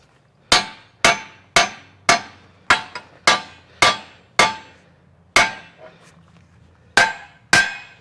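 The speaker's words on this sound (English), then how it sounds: "we might be stuck pounding it with a hammer" A hammer strikes a metal tool plate adapter for a Bobcat 843 about a dozen times in a steady, ringing rhythm, each clang sharp and close with a short decaying ring.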